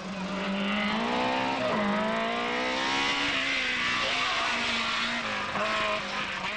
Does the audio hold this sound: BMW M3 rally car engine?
yes